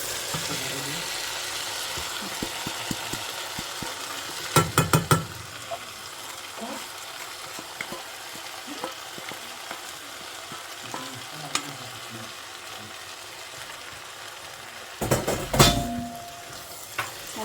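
Lentils with bacon and sausages are stirred in a simmering pot, giving a soft continuous sizzle with scraping and clinking spoon strokes, two louder bursts of stirring, and faint talk.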